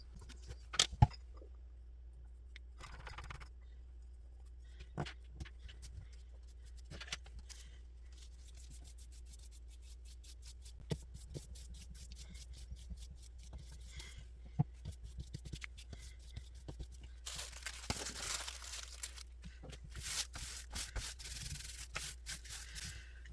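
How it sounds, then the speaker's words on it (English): Tissue paper being smoothed down with Mod Podge and a brush on a handmade postcard, giving quiet continuous rubbing and scratchy sanding-like strokes that grow denser and louder toward the end, with no talking. "I am just going to use my Mod Podge and put this tissue paper down"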